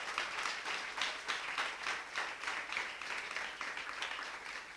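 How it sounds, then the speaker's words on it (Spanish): A church congregation claps together in a steady rhythmic beat, fairly faint and somewhat distant, repeating evenly for several seconds. "Dale un aplauso fuerte al Señor"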